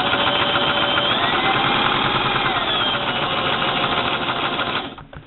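A Brother LX3014 sewing machine runs a straight stitch, a loud, close, rapid mechanical whirring with steady needle chatter that continues evenly before slowing and stopping near the end.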